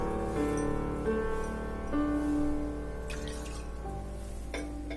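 Water pours steadily into a vessel for steamed sweet dumpling dough, its tone rising as it fills, with a few light clinks near the end.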